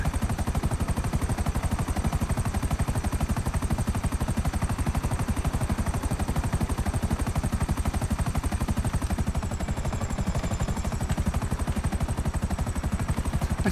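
A helicopter in a video game flies with a steady, rapid rotor chop throughout, loud and continuous, with a thin high engine whine riding over the pulsing blades.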